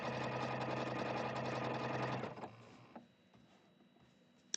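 A sewing machine stitches in a steady, fast, loud whir for about two seconds, then stops. Quieter handling sounds follow, with no talking.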